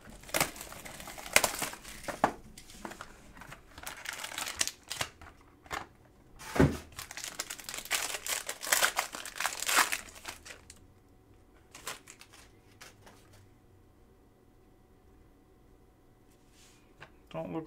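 Someone tears open a sealed pack of Panini Obsidian basketball trading cards. Crinkly wrapper rips and crackles come in bursts, with clicks and shuffling, then the sounds fade to quiet handling.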